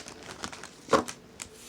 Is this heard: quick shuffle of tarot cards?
yes